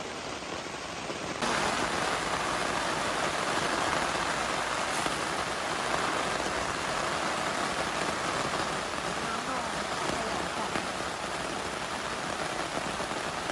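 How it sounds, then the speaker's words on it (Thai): Heavy rain pours onto a camping tent at a campsite in Khao Yai, a dense, steady hiss of drumming drops that swells up after a brief quieter moment and then stays loud and unbroken. "นี่นะคะฝนตกหนัก"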